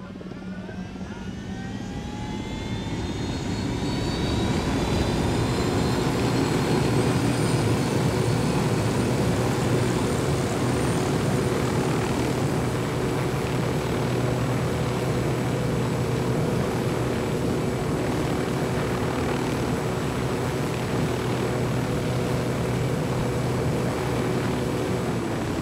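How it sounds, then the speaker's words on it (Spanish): A helicopter in Ghost Recon Wildlands drones continuously, with a rising whine as the engine spools up over the first seconds, then a steady loud rotor and turbine roar with sustained engine tones and no talking. "Vamos a agarrar el helicóptero."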